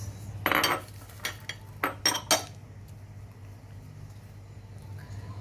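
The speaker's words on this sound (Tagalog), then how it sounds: "i-mix natin yung bawang, yung sibuyas," Garlic, onion and tomato mixed in a bowl for baked tilapia with vegetables: a spoon scrapes and clinks against the bowl in a handful of short bursts, then quiet.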